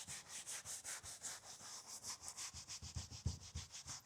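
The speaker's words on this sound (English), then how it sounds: "Then we're just going to scrub it lightly." Rapid rhythmic scrubbing of a brush over Alcantara upholstery, soft close-up rubbing strokes repeating steadily without pause.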